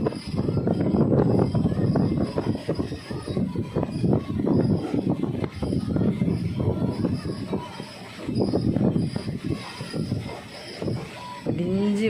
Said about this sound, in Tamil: மலையோரத்தில் இந்த பக்கம் ட்ரெயின் போய்கிட்டு இருக்கு